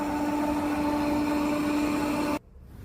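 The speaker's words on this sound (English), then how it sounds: "Airzeen Robot Vacuum is one of the best vacuums I've had in a while." An Airzeen robot vacuum cleaner runs with a steady, moderate whirring hum that cuts off abruptly after a little over two seconds, leaving faint room noise.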